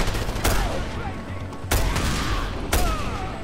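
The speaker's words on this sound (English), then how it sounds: "So many rounds coming my way" Bursts of automatic gunfire in the Just Cause video game, three sharp loud volleys spaced about a second apart over a continuous rattle of rounds.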